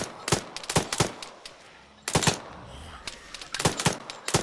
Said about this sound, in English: the amount of fire coming in on you